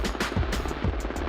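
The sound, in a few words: medevac helicopter approaching during military medical training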